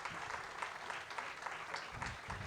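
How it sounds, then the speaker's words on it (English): Audience applause at a live interactive club show, a quiet, steady patter of many hands clapping continuously. "Another round of applause for Octavia."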